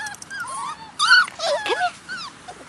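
A puppy whimpers and yips in a string of high, wavering whines and short squeaks, fairly close and clear, with pauses between bursts and no talking.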